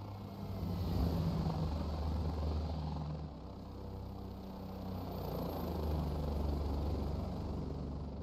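A simulated helicopter from the game Microsoft Flight Simulator 2020 produces a continuous low rotor and engine drone that holds steady, dips briefly, then swells again.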